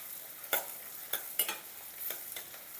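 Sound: onions frying in a pan for capsicum masala curry

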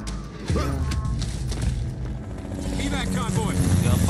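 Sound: helicopter approaching in the video game Gears 5

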